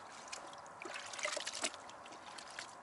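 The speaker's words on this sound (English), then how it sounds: "We're rinsing it out again." Wash towel rinsed in a bucket of rinseless wash solution during a car wash and wax session, soft sloshing and trickling water with a few faint drips, close and quiet, no voices.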